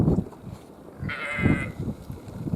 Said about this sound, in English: There's Charles, sheep that gave me a concussion.